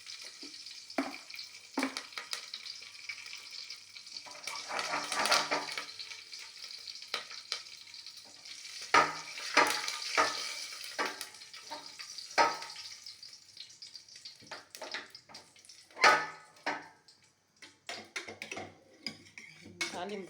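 Mustard seeds, cumin and curry leaves sizzle in hot oil as a tempering for tomato dal, with a steady crackling fry broken by the clatter of a spoon stirring against the pan.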